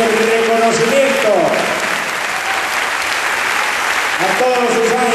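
A crowd at a tango tribute to María Nieves at the 2010 Mundial de Tango applauds loudly and continuously, a dense sustained wash of clapping with voices rising through it.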